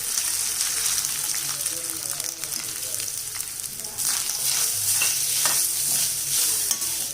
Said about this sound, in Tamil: ரவா எடுத்து அதே அளவுக்கு தேங்காய் பூ எடுத்து வறுத்துக்கலாம்